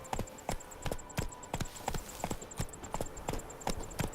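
Roach the horse trots in Witcher 3, hooves clip-clopping in a steady, even rhythm of crisp close hits over a faint background tone, with no talk.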